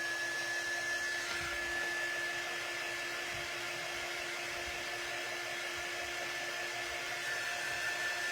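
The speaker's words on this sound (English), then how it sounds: "I'm going to dry this really, really well because I'm going to have to put this other part of the transfer over it." A hair dryer running steadily to dry a transfer on a standing ghost cutout, a constant close whirring blow with a faint whine and no talking.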